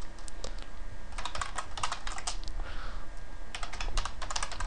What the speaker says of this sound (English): And you see me type in some code.